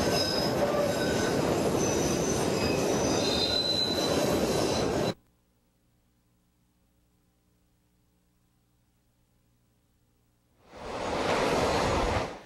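Chicago CTA elevated train wheels squealing at Belmont station on the north-south main line, a loud grinding screech for about five seconds, then near silence, then the squeal rising again as another car passes, no voices.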